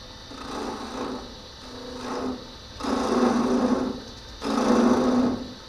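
Elm wood being hollowed by hand into a biscuit cutter gives four rasping scraping strokes, each lasting about a second with short pauses between, close and moderately loud with no talk.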